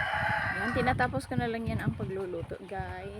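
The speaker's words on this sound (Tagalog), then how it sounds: "Pasensya na kayo sa manok" A chicken crows and clucks close by during breakfast cooking. The calls are loud, repeated and pitched, and a person talks over them in the same clip.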